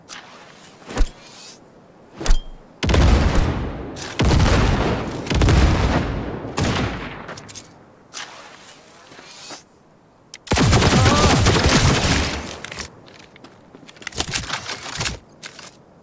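Sniper gunfire in the video game Cyberpunk 2077 sounds as a few sharp isolated cracks, then long heavy roaring bursts of fire and booms, loud and close, with gaps between volleys.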